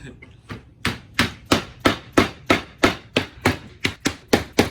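Wooden pieces for a custom dog gate are pounded together with a hammer, about a dozen sharp, evenly spaced knocks ringing out close and loud with no talking.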